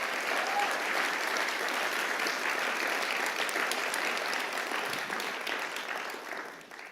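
Steady, full applause from an audience at a global social innovation challenge finals event, dense and even throughout before tapering off at the end.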